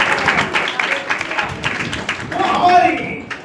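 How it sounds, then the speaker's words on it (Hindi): A church congregation claps together during a Hindi sermon, a dense patter of hands in the first half that thins out as a voice carries on over a faint reverberant hall. "ताली बजाते हैं परमेश्वर।"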